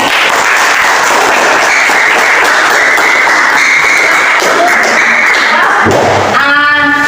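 Students in a classroom clap together in a loud, dense burst of applause that runs for several seconds and then breaks off into a voice speaking.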